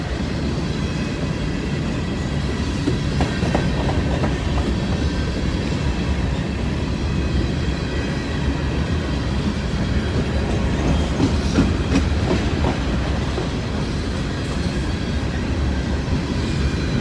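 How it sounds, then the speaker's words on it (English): Empty grain freight train rolling past at moderate distance, a continuous rumble with clickety-clack of wheels and faint squeals throughout. "Empty grain train."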